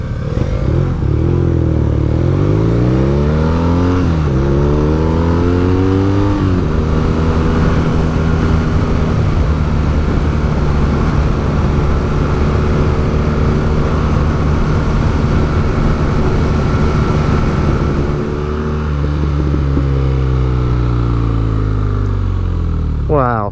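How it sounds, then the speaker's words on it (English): A 2016 BMW R nineT motorcycle with a brushed aluminum finish, ridden hard: the engine revs up repeatedly through the gears in loud rising sweeps, then holds a steady roar at cruising speed, with a rider talking over it. "that, folks, was a quick ride on the 2016 BMW R9T"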